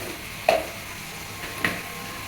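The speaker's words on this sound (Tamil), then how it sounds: "இந்த பாருங்க வதக்குது பாருங்க, அதே மாதிரி வதக்கிங்க." Onion, tomato and spices sautéing in a pan for Madurai chicken gravy, a soft continuous sizzle close by with two brief louder scrapes of stirring, no voices over it.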